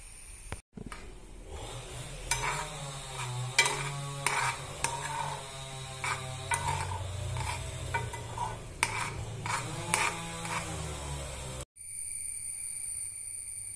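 Milk cream and water boil in a pot to make ghee, giving a steady bubbling sizzle with occasional stirring scrapes before cutting off near the end. No voices are heard.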